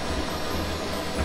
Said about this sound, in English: That is the sound of laser etching.